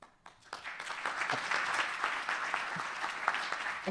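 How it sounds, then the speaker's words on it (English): Audience applause at the close of an academic conference session on educational performance, a soft, somewhat distant patter of many hands that rises after a brief pause and holds steady to the end. "we can give them an applause"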